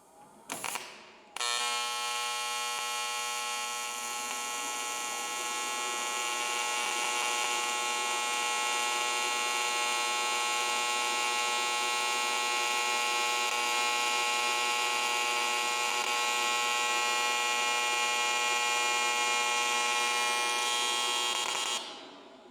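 A YesWelder welder runs continuously in a garage for about twenty seconds, a loud steady electrical buzz and hum with a harsh, crackling edge that starts abruptly after a brief pause and holds without a break.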